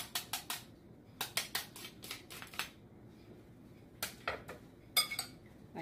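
Grated carrots and zucchini tossed in a bowl, producing quick clicking and scraping taps of a utensil against the dish in short bursts, close and fairly quiet.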